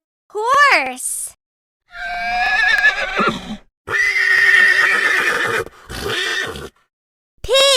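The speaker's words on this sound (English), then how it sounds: "Horse." A cartoon-style horse neighing in a children's animal-sounds game, one of several animal calls in sequence; a loud, wavering whinny bursts out clearly among other short animal calls and brief pauses.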